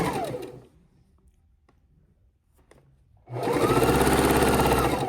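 A sewing machine stitches half square triangles into a scrap quilt top. A short whir fades into near silence with a few faint taps, then the machine starts again loud and steady.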